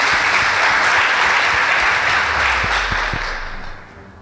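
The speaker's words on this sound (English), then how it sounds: "Please give them a round of applause." An audience applauds debating teams from Materi Girls and Kibirichia Girls at a school debate, a dense, loud clapping that holds steady for about three seconds before tapering off toward the end.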